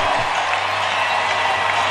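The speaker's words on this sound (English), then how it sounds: "the crowd on its feet, cheering their Oklahoma City Thunder for this solid performance" An Oklahoma City Thunder home basketball crowd gives a standing ovation after a win over the Spurs, a steady dense wash of cheering and applause from a large arena audience.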